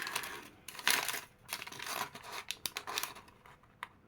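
A small plastic bag of LEGO bricks is torn open by hand, giving a close series of sharp crinkles and rips in quick, uneven bursts, with light rustling between them.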